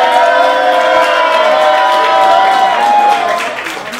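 Crowd at a battle rap tournament cheers, claps and yells for the rapper, a steady loud roar of voices and applause that holds for about three seconds and then begins to fade.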